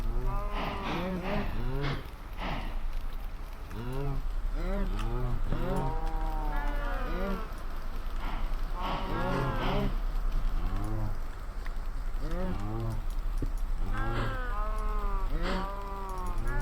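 Cows crammed together in the Minecraft video game, lowing over and over in overlapping moos at a steady pace throughout, with a low constant hum underneath.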